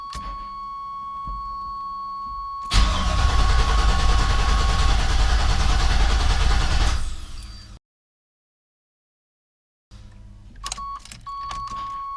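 A 1988 Chevrolet Suburban with a swapped LS engine, parked with the e-brake set and a little gas in it, is started. After a steady warning chime, a loud roaring start-up burst lasts about five seconds, then cuts to silence before faint clicks and chimes return.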